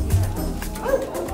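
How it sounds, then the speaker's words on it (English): Dogs bark and yip in a house during a police dog search, a few sharp woofs heard moderately close over room noise and faint voices. "She has been trained to try and ignore other odours and other barking dogs"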